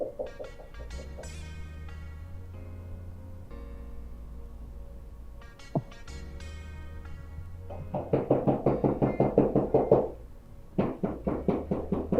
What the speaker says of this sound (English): knocking on this door quietly for quite some time